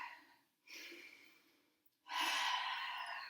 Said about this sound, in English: Maybe breathing out through the mouth,